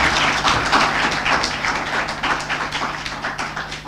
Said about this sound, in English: Let's give the students a big round of applause